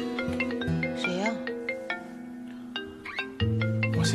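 A mobile phone ringtone plays a bright, melodic tune of repeated notes that rises and falls, loud and close, continuing for several seconds over a quiet indoor background.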